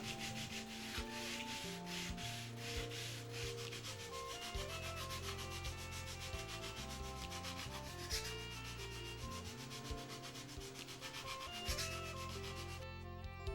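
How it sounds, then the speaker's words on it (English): A wooden radius on a model stabilizer's leading edge is block sanded by hand, giving steady back-and-forth rasping strokes, close and continuous, with no talking. "Now carefully block sand the radius smooth as shown."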